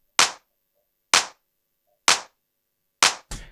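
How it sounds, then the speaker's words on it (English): A classic house music clap sample, five crisp sharp hits spaced about a second apart, dry and isolated with nothing in between. "And then we have a clap, sounds like this"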